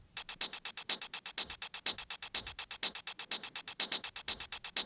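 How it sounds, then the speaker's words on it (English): Hi-hat layered with a shaker forms a fast, busy pattern of bright ticking hits with brighter accents roughly twice a second, steady and moderately quiet with no speech. "together with the shaker it sounds like this"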